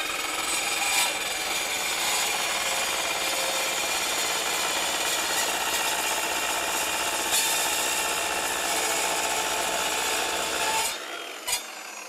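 A power tool cuts through a grade 8 steel bolt in a continuous, loud, harsh grinding rasp lasting about eleven seconds before stopping abruptly, followed by a faint knock.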